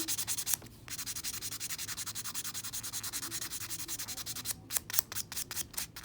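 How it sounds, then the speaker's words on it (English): Steady rapid rubbing of a buffer block filing a fingernail smooth during a scrub ombré nail job, close and continuous with rhythmic back-and-forth strokes, a few sharper scrapes near the end. "I'm just going to use a buffer block"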